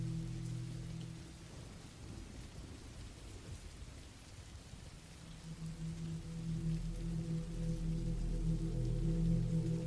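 Steady rain falls throughout with low rumbling thunder, a dark stormy atmosphere, the wash of rain swelling louder in the final seconds; no voices.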